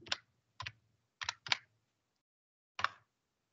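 Keystrokes on a computer keyboard while entering input for a Python programming exercise, five separate taps in an uneven rhythm with pauses between them, close and fairly quiet, no voices.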